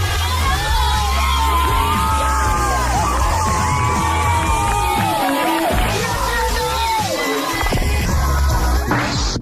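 Students at a graduation ceremony react as a classmate leaves the stage after a fall, a loud, continuous crowd din of cheering, whoops and shouting with scattered applause, steady throughout and close.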